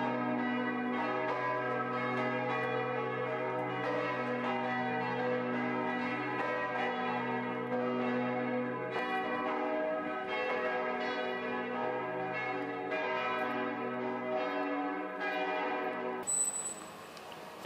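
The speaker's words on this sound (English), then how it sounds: "The oldest bells date from the beginning of the 13th century and are amongst the heaviest." Church bells at Bamberg Cathedral in Bavaria, some of them heavy medieval bells, ring together in a dense, sustained peal with rich overlapping tones that fades sharply at the end.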